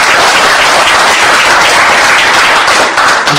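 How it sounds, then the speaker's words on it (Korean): A large audience at a political party founding convention bursts into loud, dense applause, a continuous roar of many hands clapping together at close range. "다시 한번 큰 박수 부탁드리겠습니다."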